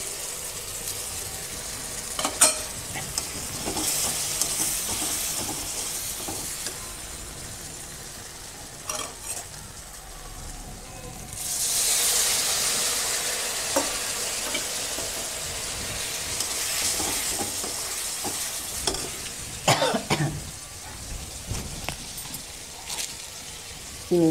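Ginger paste fries in a pan for Bengali dhokar dalna while being stirred, producing a steady sizzle with repeated scraping and clinking of a spoon, growing briefly louder midway.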